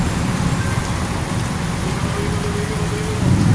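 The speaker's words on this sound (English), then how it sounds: "A lot of rain." Heavy rain pours on Westchester Avenue in the Bronx, New York City, as a dense, continuous hiss. It stays steady from start to end, with faint traffic rumble underneath.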